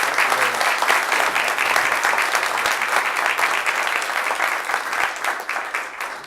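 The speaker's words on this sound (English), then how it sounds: "Let's give him a round of applause for his commitment to this." A round of applause fills a city council meeting, steady dense clapping from a roomful of people that holds at an even, loud level throughout.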